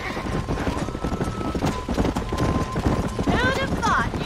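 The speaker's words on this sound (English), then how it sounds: "These are fine horses." Horses clip-clop at a steady trot in Red Dead Redemption, the hoof beats clear and fairly close while talk from the game continues over them.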